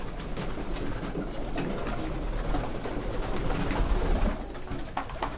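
Viennese flying pigeons coo softly amid outdoor background noise, with a few wing flutters and low rumbling traffic throughout.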